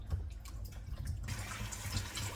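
Sweet potatoes are rinsed in water, with soft splashing and trickling close by; the sloshing grows brighter and fuller partway through, and no one talks.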